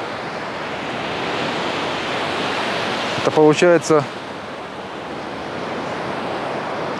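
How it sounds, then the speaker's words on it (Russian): Storm surf on a resort's central beach in windy weather: a continuous broadband roar of waves washing up the sand, with wind rumble on the microphone and a brief spoken phrase partway through. "широкие волны оставляют свой след на территории пляжа,"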